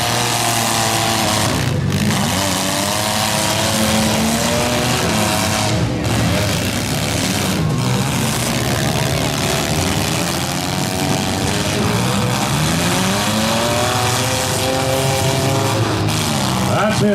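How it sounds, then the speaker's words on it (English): Demolition derby cars rev and roar continuously in a heat, dense overlapping engine noise with rising and falling pitch sweeps and occasional sharp banging impacts; an announcer's voice runs beneath the din. "Oh, they're beating and banging in this heat"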